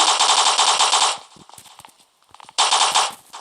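Gunfire in the mobile shooter Block Strike during a team battle match: two loud, rapid automatic bursts separated by a quieter stretch of scattered clicks and steps.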